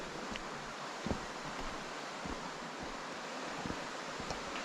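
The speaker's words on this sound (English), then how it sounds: "you've still got quite a bit of water coming along to get that lovely sound of running water" Steady rushing water fills the scene, a constant broad wash of a stream tumbling over boulders near Surrender Bridge and Low Row, with a few faint clicks and no voices.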